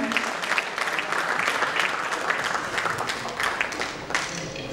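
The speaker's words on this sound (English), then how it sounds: "we want you to have a more enthusiastic round of applause." An audience at an evening event claps for several seconds, a dense and steady round of applause from a crowd with no speech on top.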